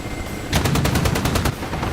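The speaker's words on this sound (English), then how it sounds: "Gunfire from the Apache." A rapid burst of roughly eight automatic gunshots from an Apache helicopter in the video game DCS World, fired in quick, even succession, loud and close, with no talking.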